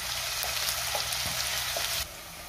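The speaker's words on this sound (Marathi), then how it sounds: "तेल गरम झालंय, तेलामध्ये मी कांदा घालते" Chopped onion sizzles in hot oil for a Marathi prawn sukka. A steady, close frying hiss carries a few soft stirring clicks, then drops sharply near the end.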